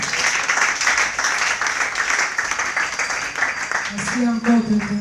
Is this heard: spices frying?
no